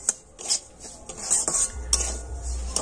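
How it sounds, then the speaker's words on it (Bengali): Semolina is gently roasted in ghee in a pan over a low flame. A metal spoon clinks and scrapes against the pan in irregular strokes, with a low hum near the end and no talking. "ঘিয়ের মধ্যে সুজিটা কিন্তু হালকা করে ভেজে নেব"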